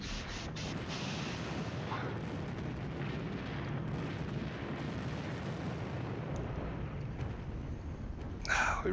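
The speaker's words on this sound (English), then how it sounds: "Artillery just bombing" Artillery barrages in the Normandy wargame Panzer Battles, a dense continuous rumble of distant booms and blasts rolling on for several seconds, fairly faint and without talking, ending with a brighter burst.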